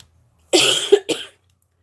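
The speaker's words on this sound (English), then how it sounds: "Sorry for the coughing." A single close cough burst followed by a quick second, shorter cough, then silence.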